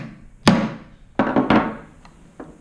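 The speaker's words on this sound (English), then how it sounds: "So a couple of decent whacks and it will actually go in quite well." Three solid hammer whacks drive a roll pin insertion tool home, each a sharp close thunk with short decay, followed by lighter taps, no talking.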